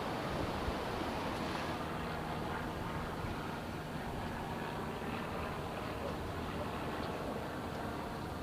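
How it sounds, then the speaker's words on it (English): Ocean surf rolling in with strong current at a Florida east coast beach, a constant broad wash of waves mixed with wind buffeting the microphone. "You can see like all the strong current coming in and out and the waves."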